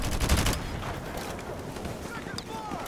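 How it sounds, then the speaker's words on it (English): AK rifle gunfire in a video game: a dense rapid burst rings out loud at the start and then trails into scattered shots and echoing game noise. "the AK runs out of ammo quickly"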